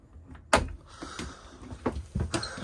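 A storage drawer in a Hymer BSL 708 motorhome: a sharp knock as it shuts, then a few softer clunks and rattles of the drawer and catches, close and fairly quiet, with no talking.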